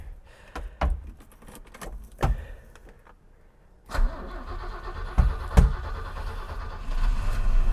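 An older Mercedes-Benz 190E under general overhaul cranks and fires, preceded by door and cabin clunks, then settles into a steady idle that hums low and close toward the end.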